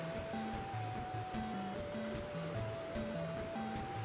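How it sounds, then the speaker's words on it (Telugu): Egg rice being stirred and fried in a pan gives a steady, loud, close hiss of sizzling that runs unbroken throughout, with soft melodic background music layered over it and no talking. "ఒక 2-3 మినిట్స్ కలుపుతూ ఉండాలండి మాడిపోకుండా."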